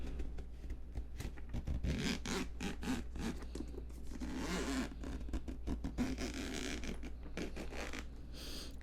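The zipper on a Steam Deck carrying case is slowly drawn open in a series of close, crisp rasping pulls with short pauses, recorded intimately in a quiet room, with no talking.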